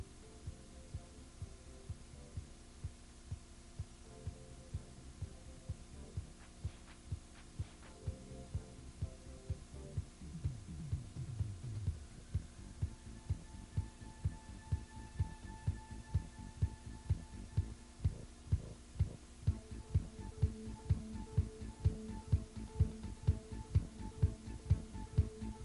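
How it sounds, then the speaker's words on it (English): A CNC milling machine cuts an O-ring groove into the top of a Feuling 4-valve motorcycle cylinder head, giving a steady machine hum with a dense, rhythmic throbbing pulse that continues evenly throughout at close range. "You're watching it mill out the O-ring groove in the top of the head."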